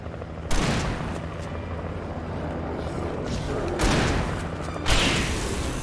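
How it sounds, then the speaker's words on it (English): A flare gun fires in Alan Wake Remastered, giving a few sharp booming bursts over a dense, rumbling background of game noise with no talk. "That was a good flare."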